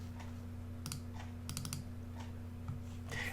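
Keys clatter on a computer keyboard in two short bursts of quick, close taps over a steady electrical hum, typing into Terminal, with no talk.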